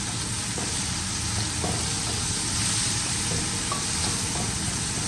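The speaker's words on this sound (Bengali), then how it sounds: "পেঁয়াজটা হালকা ভেজে যে শুটকিগুলো দিয়ে দিলাম, একটু ভেজে নিব" Dried fish frying in a pan with lightly browned onions makes a continuous close sizzle and hiss, with a few faint stirring clicks and no voices.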